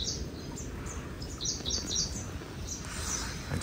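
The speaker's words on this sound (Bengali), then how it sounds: "আর ইতিমধ্যে ভেসে আসছে পাখির ডাক।" Birds call in a rainy Kerala forest, faint high chirps and tweets scattered over a soft, steady background wash, with no voices.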